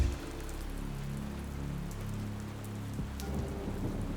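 Rain on a January night in Orange, Texas, a steady close hiss of falling drops with a low rumbling undertone and a few sharper taps, no voices.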